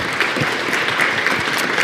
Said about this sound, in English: y'all are well rehearsed on the church clap